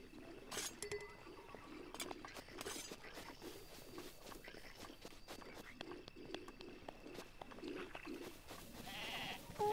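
Sheep bleating in the game Zelda: Breath of the Wild, repeated short bleats over rustling footsteps and a busy game soundscape, moderately loud with no speech.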